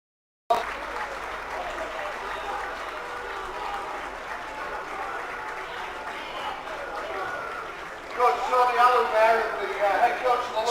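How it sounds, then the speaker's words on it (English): Crowd at an American football game at Britbowl 27 in London applauding steadily throughout, with the clapping swelling louder and more intense near the end. "big applause from the crowd there for them"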